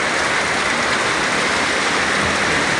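Heavy rain pours down steadily, a dense, loud hiss of water with no break and no voices.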